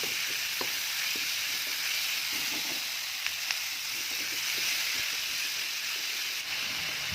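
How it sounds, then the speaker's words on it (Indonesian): Wood ear mushrooms sizzle steadily in a hot pan with salt, seasoning and pepper as a spatula stirs them, adding faint scrapes and clicks over the constant frying hiss. "Aduk semuanya sampai merata."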